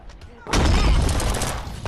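A gunshot in the VR video game Animal Company: a sudden loud, sustained blast after a quiet half second, filling the rest of the clip with noisy roar.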